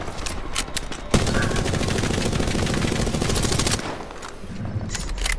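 Video game gunfire breaks out in a sustained automatic burst lasting about three seconds, loud and close, with scattered shorter shots around it.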